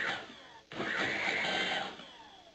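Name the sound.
blender pureeing pasilla chile pieces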